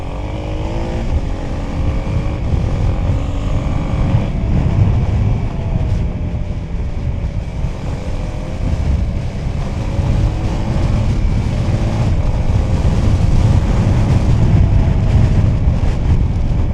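A Suzuki XF650 motorcycle on worn knobbly tyres being ridden, its engine droning steadily and loudly up close under heavy wind rush, with the pitch shifting gradually, no talking.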